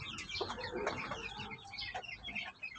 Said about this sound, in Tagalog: So yan lang yung hen natin.